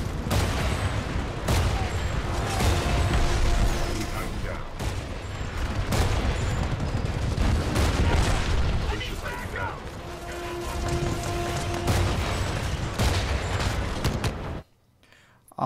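Gunfire and mechanical clatter during a Titanfall 2 campaign mission, with dense repeated shots, ratcheting metallic clanks and whirring machinery running loud and continuous before cutting out near the end.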